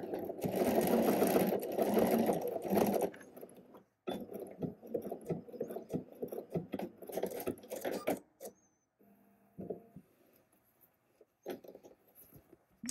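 Sewing machine stitching a waistband seam while altering a ready-to-wear waistband, running in a steady loud burst for about three seconds, then continuing in shorter stop-start runs with pauses and a near-silent stretch toward the end.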